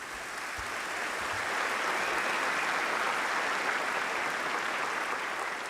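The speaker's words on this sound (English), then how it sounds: "Let's have a round of applause for these university leaders." An audience at the Auburn University Summer 2022 commencement ceremony applauds steadily, a dense, sustained wash of clapping that swells slightly and holds.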